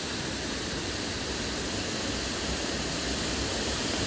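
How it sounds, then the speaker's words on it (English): Waterfall at Goit Stock pouring over rocks in a mossy, fern-lined wooded glen, a steady broadband roar of falling water heard up close, constant and full with no pauses and no voices. "the mist coming off the water that's falling down over the"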